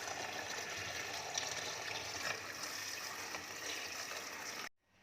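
Water runs steadily while a filter facepiece mask container is washed and rinsed clean, a continuous close trickle and splash that cuts off abruptly at the end.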